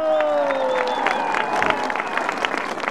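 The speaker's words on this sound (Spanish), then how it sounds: "Pero acá está, es decir, lo aplauden" An audience applauds steadily at a decentralized Council of Ministers gathering in Amazonas, a dense patter of clapping hands with a soft murmur of voices and a faint sliding tone early on.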